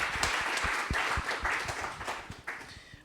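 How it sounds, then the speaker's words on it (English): A conference audience applauds a panelist, moderately loud clapping with a few distinct sharper claps, thinning slightly toward the end. "Let's give a round of applause to Nathan"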